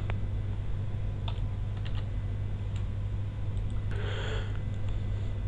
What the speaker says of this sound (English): Now let's type Tom and see what will happen.